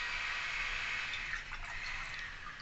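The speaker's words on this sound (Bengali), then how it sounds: "এই মিশ্রণকে এবার গ্লাসে সার্ভ করব।" Aam panna, a raw mango drink, pours steadily into a glass, a continuous soft liquid stream heard close and fairly faint for a few seconds, with no voices.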